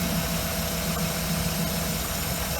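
A 2008 Cadillac Escalade's GM 6.2L V8 idles with a steady, even drone and slight mechanical vibration, close up and continuous with no talking.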